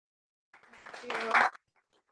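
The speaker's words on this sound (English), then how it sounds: "Everybody, please give Doc a round of applause." A short burst of clapping breaks out at a continuing education seminar and swells for about a second before stopping abruptly, mixed with a voice.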